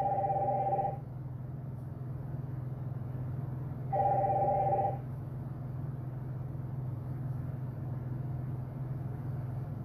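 A telephone rings twice, each ring about a second long and repeating about three seconds apart, over a steady low hum, with no talk.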